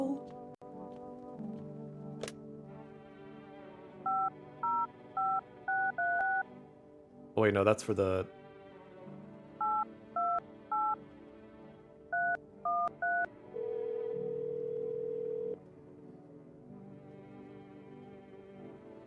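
Touch-tone keypad beeps from the horror game No, I'm Not A Human as a phone number is dialed, short tones in quick clusters of three and four, then a longer steady tone, with a burst of noise and a brief voice over a droning background.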